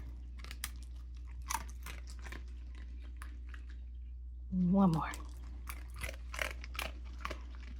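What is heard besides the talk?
dog crunching dried liver treat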